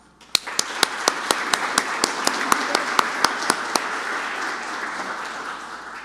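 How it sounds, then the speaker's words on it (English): Applause for speakers at a government AI event, opening with one person's loud, rhythmic claps, close and regular, over a building crowd applause that carries on after the single clapper stops. "Will you join me in giving them a round of applause?"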